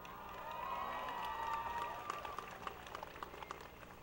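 A university commencement crowd gives a sustained round of applause outdoors, dense clapping that swells and then thins into scattered claps, heard at a distance without speech.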